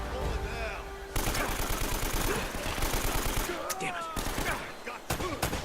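Rapid gunfire from the action game Uncharted: Drake's Fortune, with sustained automatic bursts crackling loudly and continuously for several seconds after a brief quieter lead-in, and scattered shots at the end.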